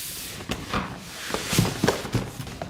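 A PS5 console box is handled and opened, giving a run of papery cardboard rustles, knocks and sliding thumps at close range, with no talking.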